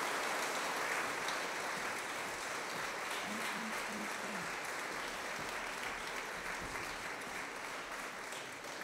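A concert audience applauds a Brno radio folk instrument orchestra, steady dense clapping that fills the hall and holds evenly throughout.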